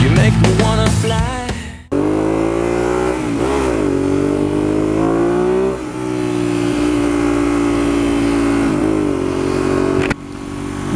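A Ducati Monster 821 motorcycle engine is revved loudly and close up in several rising and falling bursts, with a sustained high-rev stretch between brief dips.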